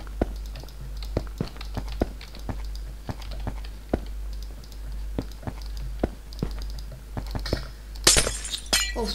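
Blocks being broken in the Minecraft video game, a steady series of short crunching hits about every half second, with a louder shattering burst near the end and a low hum underneath.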